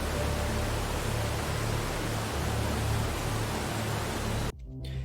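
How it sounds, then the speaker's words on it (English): Steady, dense rushing roar of falling water filling the whole clip, fairly close and loud, cutting off abruptly near the end. "I've got a few shots of this waterfall"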